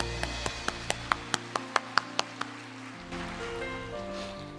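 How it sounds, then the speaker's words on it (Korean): A church congregation at an autumn dawn revival service claps in praise, about a dozen crisp, evenly spaced claps in steady unison, followed by a softer, murmuring room tone. "우리 주님께 영광의 박수 올려드립니다"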